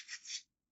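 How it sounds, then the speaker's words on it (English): Leather sheath edges being sanded by hand through 220, 320 and 400 grit, a single short close rasping rub of about half a second that stops abruptly into silence. "I'm finishing up the sanding. I did a 220, a 320, and a 400 on these edges."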